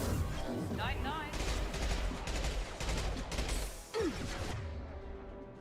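Weapon fire in the video game Mass Effect 2, a steady run of shots and impacts with whooshing effects, fairly close amid dense combat noise and voices.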